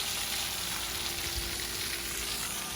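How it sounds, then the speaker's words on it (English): Pool sand filter being backwashed: constant broadband rush of flowing water, steady and close with no variation and no talk. "We are backwashing the filter till it runs clear."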